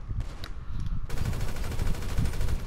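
Rapid automatic gunfire in GTA V, a dense burst that starts faint and then becomes a loud, continuous rattle of shots for about two seconds.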